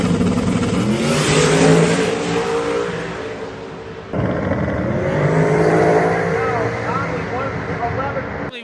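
A 2200hp Cadillac CTS-V launches off the line at a drag race, its roaring engine surging loud and harsh, then easing off and rising again as it pulls away, with an announcer talking over the noise.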